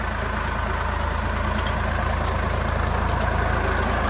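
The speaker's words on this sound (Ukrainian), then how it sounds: "Трактор купає сам." A steady low tractor engine drone at 1050 rpm runs without pause while digging potatoes, loud and close, with a constant rumble and no voices.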